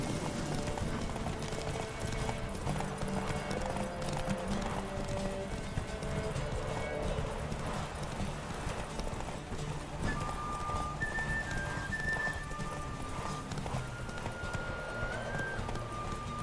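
Horse hooves clip-clop at a gallop during a horse race in The Witcher 3, a steady rhythmic pounding under game music, with a brief whinny among the hoofbeats.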